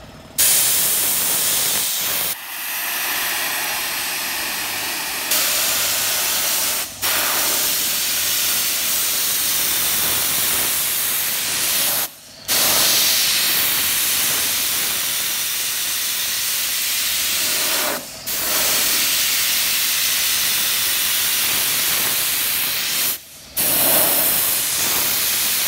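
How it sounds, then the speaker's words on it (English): Loud, continuous pressurized hissing of roof coating sprayed from a handheld tube onto roof shingles, broken by several brief pauses as the spraying stops and restarts. "Spraying this material out of a tube."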